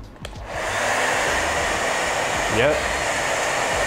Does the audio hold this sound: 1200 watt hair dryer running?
yes